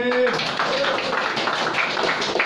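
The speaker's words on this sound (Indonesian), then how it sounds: "Tepuk tangan dulu tulang" An audience claps together during a sermon-style gathering, a dense and steady patter that follows a brief voice and keeps going at moderate volume.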